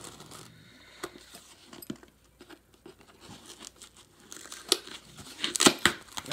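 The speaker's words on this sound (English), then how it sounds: "I'm trying to get into this tape because I really don't want to put too much knife into this box." Packing tape is picked at, cut and torn to open a cardboard box, heard as close, quiet scattered rips and crinkles that grow louder and denser toward the end.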